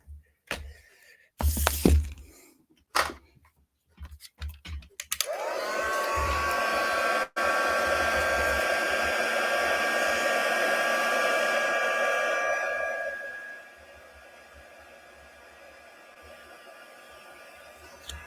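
A hair dryer blows on a handmade Christmas bauble, starting after a few knocks and handling thumps, then running loud and close with a steady roar for about eight seconds before dropping to a quieter setting.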